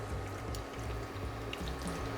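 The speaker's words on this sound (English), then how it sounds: "I'm gonna add in the tamarind water now." Tamarind water poured into sardine sambal in a home kitchen pan, a steady close liquid pour and sizzle running continuously throughout.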